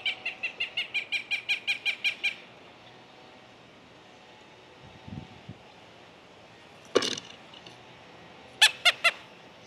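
A blue jay at a backyard feeder mimics a Cooper's hawk with a rapid run of about a dozen sharp, evenly spaced calls. After a pause, a single loud note follows, then a short burst of three more calls near the end.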